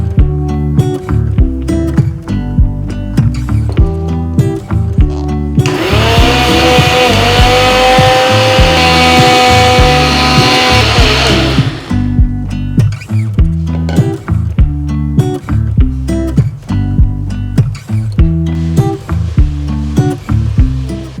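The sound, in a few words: mixer grinder grinding semolina (rava) finely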